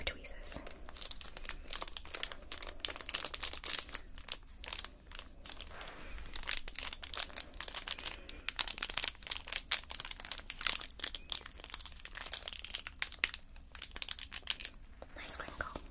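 Glossybox beauty packaging is crinkled up close during an unboxing, with dense, continuous crackling and rustling bursts that keep going throughout, quiet and intimate in an ASMR style, without talk.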